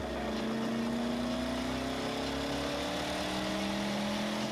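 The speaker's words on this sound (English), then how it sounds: "Plenty of revs. Ooh, and a bit of backfire through the pipes." A Corvette engine on a dyno revving steadily higher, its tone climbing smoothly, loud and close, with no talking.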